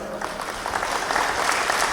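A congregation at a one-day Christian retreat in Kothamangalam claps to thank the Lord, a steady dense burst of many hands close and continuous for a couple of seconds, with no talk over it.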